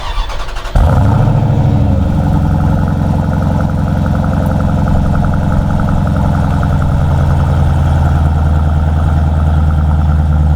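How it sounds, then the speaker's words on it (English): A Honda Integra DC5 Type R engine cranks and fires on a cold start, then settles into a loud, steady, close idle that holds alone with no talk. "But it's time for a cold start."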